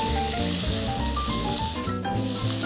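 Beef browning in a pan for beef bourguignon gives a steady, loud sizzle that runs through the whole stretch beneath prominent background music.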